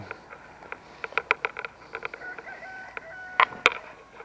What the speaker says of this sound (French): Maître coq qui chante.